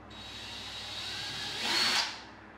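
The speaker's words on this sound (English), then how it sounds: "take a 1/8 drill bit and drill you 2 holes in the side of the boat" A power drill bores a 1/8 inch hole through the side of a kayak hull, a steady high motor whine that swells louder briefly near the end before stopping, close and alone.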